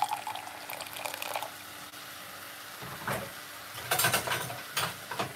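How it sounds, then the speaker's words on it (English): Water is poured from a tap into vegetable stock in a cup, with short bursts of splashing and trickling in a kitchen. Quiet handling sounds come before the pour, and the flow gets louder near the end. "you just want to put a little bit of water into it like this"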